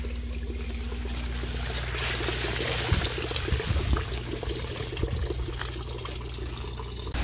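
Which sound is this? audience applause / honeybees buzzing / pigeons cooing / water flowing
water flowing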